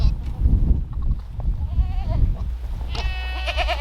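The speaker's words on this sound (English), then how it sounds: "So right now I have all the goats in one pen." Goats bleat in a shared pen on a windy Oklahoma farm, several wavering calls near the microphone, the loudest bursts toward the end, over low wind rumble.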